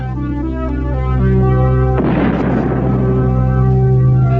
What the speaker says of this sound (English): Méliès, based on the novel by Jules Verne, shows a spaceship shot from a giant cannon.